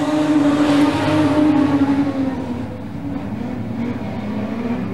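Production sedan race cars roar around a circuit during a state title heat race, a loud sustained engine drone with a steady tone that rises and then fades slightly as the cars pass, with no talking.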